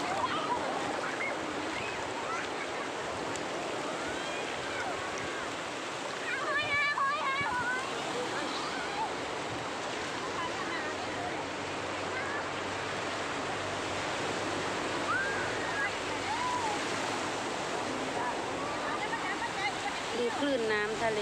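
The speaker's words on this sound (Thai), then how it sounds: "คลื่นน้ำทะเล" Sea waves wash continuously along a beach where children play, a steady broad surging hiss with faint voices and squeals mixed in.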